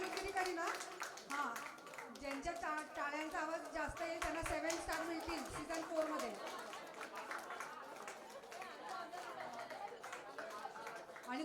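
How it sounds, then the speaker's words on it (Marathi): Audience clapping at an eighth-anniversary celebration event, dense and continuous, mixed with crowd chatter and voices talking throughout. "टाळ्या वाजवा ना, आपल्या लोकांना कंजूसगिरी करताय सगळे"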